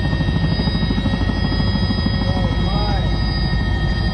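Helicopter flying over a glacier, its steady rotor and engine drone continuous and fairly close throughout, with a faint whistle on top.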